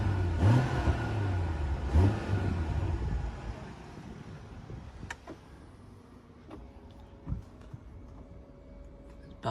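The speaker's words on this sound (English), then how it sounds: "Sounds quite nice with a sports exhaust as well." A 2019 BMW X7 40i M Sport xDrive with a 3.0 engine and sports exhaust revs up in a couple of rising bursts, then settles to a low idle with a few faint clicks and mechanical whirs.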